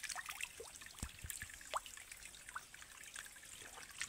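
Water trickles and drips faintly in a Jharkhand forest, scattered small droplet sounds over quiet ambience with no voices.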